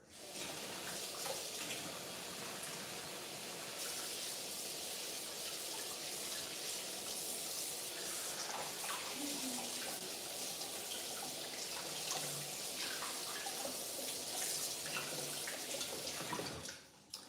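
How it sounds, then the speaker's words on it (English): A kitchen tap runs steadily as hands are washed, giving an even, broad rush of water that lasts the whole stretch with no break and no talking over it. "Wash my hands one more time."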